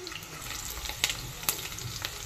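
Bay leaf pieces and chopped onion frying in hot oil, a soft continuous sizzle with a couple of sharper spatters and clinks.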